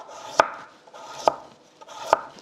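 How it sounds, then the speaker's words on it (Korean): A knife slices carrot into thick julienne strips on a cutting board, with three crisp, evenly spaced chops close up. "약간 도톰하게 채를 썰어 주세요."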